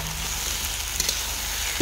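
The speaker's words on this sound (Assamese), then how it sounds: "প্ৰথমতেই ভাজিছোঁ এতিয়া এয়া ভাত কেৰেলা।" Bitter gourd fries in oil with onion and chilli, making a dense, even sizzle close to the pan, broken by a few brief crackles and no talking.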